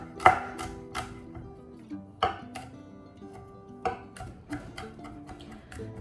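A knife cutting a bad spot off a garden-grown vegetable on a board, a handful of sparse, crisp taps and cuts at an irregular pace, fairly quiet and with no talk.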